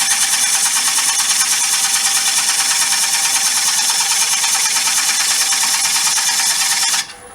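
A lathe gouge cuts dry wood on an off-centre bowl, a loud steady rasping hiss with a fast pulsing flutter from the spinning blank, continuous for seven seconds before cutting off abruptly.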